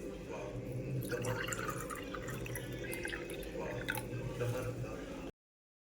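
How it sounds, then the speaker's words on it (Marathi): Water trickles and splashes steadily into a brass karva pot for about five seconds, a continuous liquid pouring sound with faint background activity. "आणि दुसऱ्या करव्यामध्ये पाणी भरत आहे"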